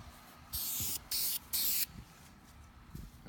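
Spray paint can hissing out a coat onto a wooden play button outdoors, three loud bursts of roughly half a second each in quick succession, with faint background noise between them.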